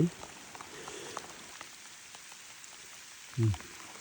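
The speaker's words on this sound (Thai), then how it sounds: "ฝนกำลังตก" Steady hiss of rain falling across the whole stretch, with a brief low thump near the end and no talking.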